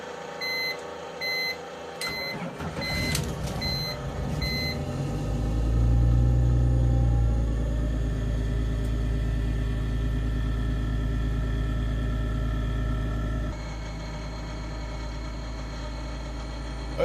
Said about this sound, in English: this is the first start with the Maxpeedingrods turbo